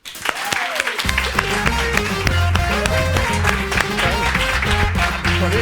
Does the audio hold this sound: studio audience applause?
yes